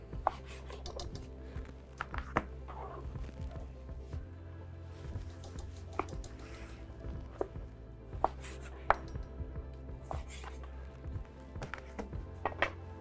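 A sharp knife slices through a Braveheart ribeye steak on a board, giving repeated close dull knocks and cuts in an uneven rhythm over a faint low hum, with no talking.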